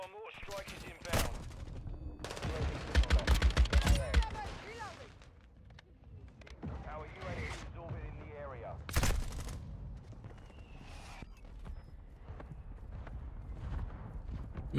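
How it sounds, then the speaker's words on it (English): Combat audio from Modern Warfare 2 with a mortar strike: scattered sharp blasts and bursts of gunfire rise and fall over about fifteen seconds, with voices talking at times. "Our mortar strike is inbound."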